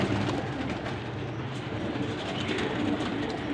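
A flock of pigeons kept for sale, about fifty birds, fills the air with dense, continuous cooing and fluttering at close range, a steady loud bed of sound with no talk.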